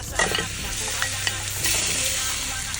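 Beef skin and tripe drop into a hot pot for balbacua and sizzle loudly up close, with a few sharp clatters as the pieces are stirred.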